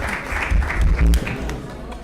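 Audience applause at a panel session of a policy conference, a steady wash of clapping filling the hall for about two seconds, with some voices murmuring underneath.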